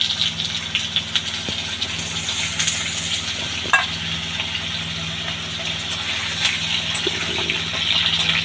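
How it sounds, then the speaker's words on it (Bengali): Diced potatoes frying in plenty of hot mustard oil, a steady broad sizzle and hiss that holds evenly throughout, with a few soft clicks and bubbling swells close by. "আলুটা লাল করে ভেজে নেব।"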